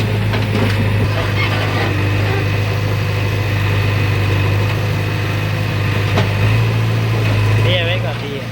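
A JCB loader works with its engine running, a loud steady diesel hum under ongoing talk, with scattered clanks and knocks from the work.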